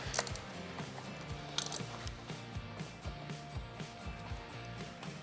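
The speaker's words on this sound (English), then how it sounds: "we'll take the ratchet, the 12mm, and we'll get this tightened down" A ratchet fitted with a 12mm socket tightens bolts on a 2024 Toyota Tacoma rear bed step, giving steady, close, rhythmic clicking strokes at moderate volume with no talk.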